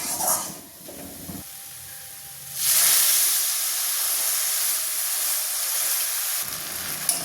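Water poured into a pan of roasted semolina for upma sets off a loud, sudden burst of hissing steam and sizzle that carries on steadily for several seconds before tapering off, with faint kitchen clatter before it.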